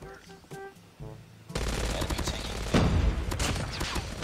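The Hades LMG, a light machine gun in a video game, fires in a long rapid burst of dense, continuous gunfire that starts after brief musical sounds and keeps rattling loudly to the end.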